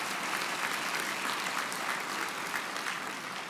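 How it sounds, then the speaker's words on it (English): Audience applauding at a college convocation ceremony, steady sustained clapping from a large crowd, fairly distant and even throughout. "The more applause, the better, right?"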